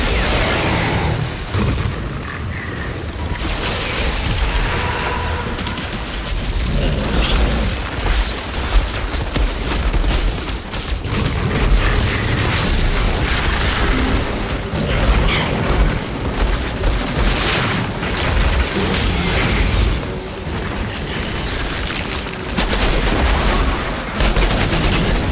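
Sustained gunfire and explosions in an action video game, with loud booms and rapid machine-gun bursts packed densely across the whole stretch, near and heavy with no letup.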